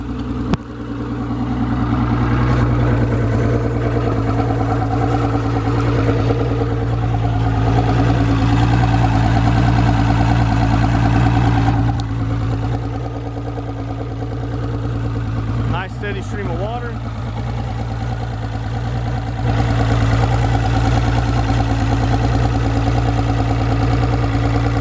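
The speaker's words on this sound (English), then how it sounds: "It keeps it at low RPM when just in neutral." The engine of a 2005 Tracker Tundra 21 DC boat idles steadily at low RPM in neutral, a loud close drone that runs throughout with a brief dip midway.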